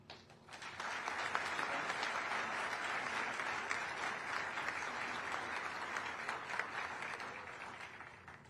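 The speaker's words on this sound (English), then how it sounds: "Please join us in a round of applause as we thank all of the 2025 MEDCoE Drill Sergeant of the Year competition sponsors." Sustained applause from an audience at a military drill sergeant of the year competition ceremony, a dense even wash of clapping that rises quickly and holds steady for several seconds before tapering, heard from a distance.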